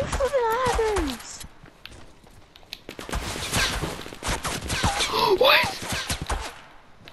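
Rapid gunfire bursts in Fortnite, a dense crackle of shots under excited voices of players talking over one another.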